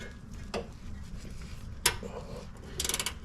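A hand wrench working on a lower control arm bolt of a 2004–2012 Honda Accord, giving a few sharp metallic clicks and a short burst of ratcheting near the end.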